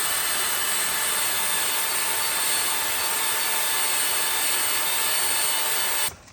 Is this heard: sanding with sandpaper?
yes